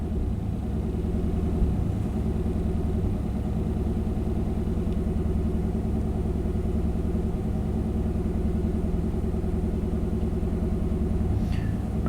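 A 1991 Chevy K1500 truck engine idles at around 1500 RPM, a steady, loud, close low rumble that holds evenly throughout.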